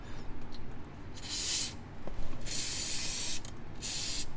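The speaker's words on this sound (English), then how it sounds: "I like to hit the area as well with brake clean" Brake cleaner sprayed onto a car's transfer case, three close hissing bursts of aerosol, the last two longer, with quiet pauses between.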